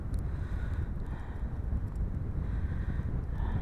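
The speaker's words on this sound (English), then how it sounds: "Dang, see that wind coming across?" Wind gusting across Chattahoochee Gap on a cold mountain trail, a continuous low rumbling buffet against the microphone with a steady broad roar and no voices.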